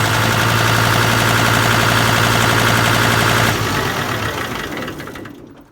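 A Kubota tractor engine, started with the ignition switch, runs at a loud steady idle close by for about three and a half seconds, then shuts off and winds down to silence.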